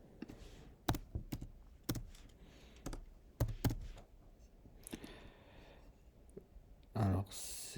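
Sharp, isolated clicks from a computer mouse at irregular intervals, roughly one per second, close and fairly quiet, with faint keyboard-like taps and light background noise and no voices.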